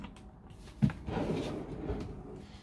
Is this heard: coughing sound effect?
no